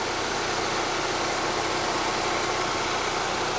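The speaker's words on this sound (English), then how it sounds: "under the hood of this Saab is the 2-liter turbocharged 4-cylinder engine" A Saab's 2-liter turbocharged four-cylinder engine idles close by, a dense, even hum with a faint rattling vibration and no voices.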